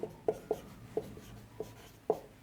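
Chalk or marker strokes on a board while an equation is written out for a Class 11 straight-line lesson, a series of short taps and scratches at an irregular rhythm, close and fairly quiet with no voices.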